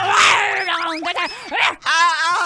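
A dog gives a few close, loud bursts of yelping barks and whining cries in quick succession, with short gaps between them.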